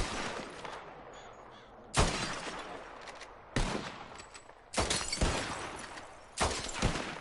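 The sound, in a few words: revolver gunshots shooting bottles in video game Red Dead Redemption 2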